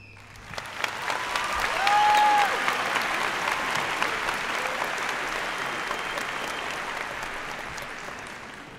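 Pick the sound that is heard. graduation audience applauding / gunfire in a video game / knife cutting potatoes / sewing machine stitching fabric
graduation audience applauding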